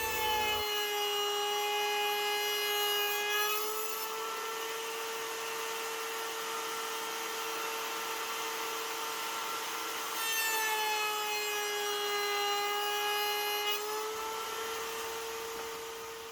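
A power tool with a steady droning whine cuts a tenon joint in wood, close and continuous, swelling louder in two passes as it bites into the workpiece, with no talking.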